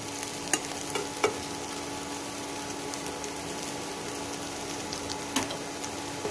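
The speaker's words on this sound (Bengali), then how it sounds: "লাল শুকনো লঙ্কা কুচিটাকে আমি দিয়ে এবার ভালো করে আলুর সাথে ভেজে নেব।" Chopped dried red chilli and potatoes fry together in a pan for a spicy masala potato butter fry, giving a steady close sizzle and hiss broken by a few sharp clicks from the utensil against the pan.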